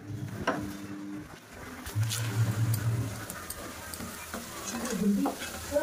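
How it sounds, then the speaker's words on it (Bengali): Pakoras sizzle in hot oil beside scraping stirs and utensil clinks, with a low hum and brief background noises. "একবার ভাজা হয়ে গেছে পকোড়া, আর একবার দিয়েছি ভাজতে"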